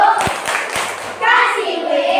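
Primary school children doing the 'tepuk wow' chant in a classroom, a few sharp claps in rhythm mixed with kids' voices chanting together.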